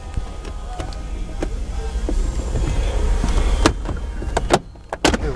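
A plastic radio trim panel is pried loose from the dashboard of a 2013-2014 Dodge Journey, with creaking strain followed by several sharp clicks and snaps as clips let go, close and moderately loud.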